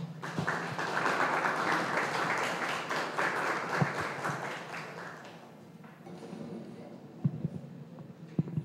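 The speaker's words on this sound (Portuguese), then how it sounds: "para quem eu peço calorosos aplausos" A warm round of audience applause at a press-week journalism event, many hands clapping densely and loudly at first, then thinning and fading into scattered claps and room murmur.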